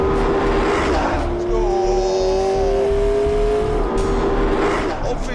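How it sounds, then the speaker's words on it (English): The hybrid V8 of a McLaren P1 GTR track car, paired with an electric motor, drones steadily and loud under the driving, its pitch rising in long sweeps with faint tire noise; speech-like texture sits underneath. "The electric motor and the big V8 generator are working together so that I have at my disposal 903 brake horsepower."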